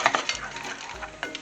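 Bacon, onions, shallots and mushrooms get stirred in a pan with a spoon, scraping and clinking a few times over a soft sizzle in a short, close burst.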